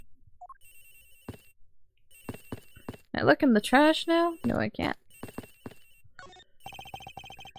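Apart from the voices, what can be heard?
telephone ringing in a video game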